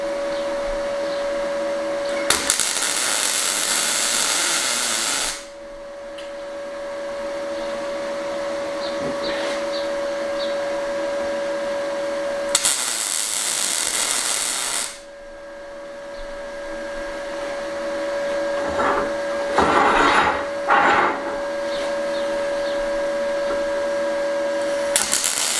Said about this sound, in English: I'm just going to tack it first, check it's right, and then yeah, weld it up fully